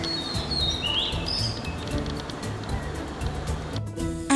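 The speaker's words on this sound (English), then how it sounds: "Favorite Singer. And the winner is Oriental Magpie Robin." An Oriental Magpie Robin in an Indian backyard garden gives a few brief, high chirping song notes over a steady background music bed.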